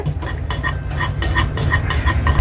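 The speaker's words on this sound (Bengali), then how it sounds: "আমি হ্যান্ডউইচ দিয়ে ভালোভাবে মিশাই নিলাম" A hand whisk stirs powdered milk into water in a bowl, making a steady run of quick, rhythmic scraping and swishing strokes, close and moderately loud throughout with no talking.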